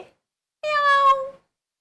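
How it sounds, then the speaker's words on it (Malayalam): A kitten gives a single clear, drawn-out meow, close and alone against silence. "ആരാ ഇത്? പൂച്ചക്കുട്ടി അല്ലേ?"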